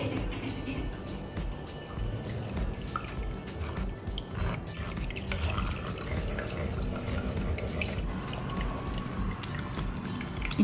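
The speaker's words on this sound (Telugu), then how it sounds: "వాటర్ పోసుకుంటూ మళ్ళీ స్ట్రెయిన్ చేసేస్తాను" Water poured through a coarse strainer while straining grated ash gourd pulp for buttermilk, a steady close trickle and splash running the whole time without a break.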